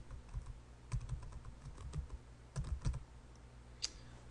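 Someone types a search query into Google on a computer keyboard, producing soft clusters of key clicks in short bursts with brief pauses between them, fairly quiet and close against a faint background hum.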